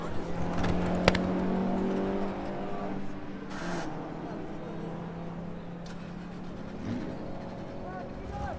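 A damaged Porsche 911, its windows blown out after a crash in a classic car road rally, tries to restart with a low, uneven engine drone and a brief sharp knock, running steadily near and loud under ambient voices.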